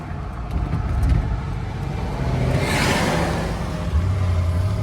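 The engine of a 1975 Buick LeSabre hums steadily while driving, a low continuous road drone with mild swells and a brief rise in pitch, with no voices.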